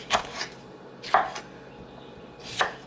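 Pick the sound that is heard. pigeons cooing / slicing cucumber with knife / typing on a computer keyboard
slicing cucumber with knife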